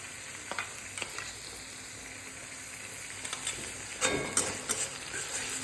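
A paste of whole cumin, dried chili, ginger and garlic fries quietly in a pan for a tangra fish oil curry, giving a soft, steady hiss with a few light scrapes near the end.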